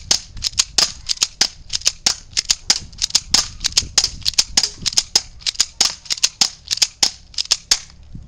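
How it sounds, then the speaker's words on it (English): An airsoft revolver fires twelve BB rounds in rapid succession: sharp, snappy pops in a quick, slightly uneven rhythm over about eight seconds, close and loud, with mechanical clicks between shots and no talking. "I'm going to do a speed shooting test because I think I can empty it in about 10 seconds."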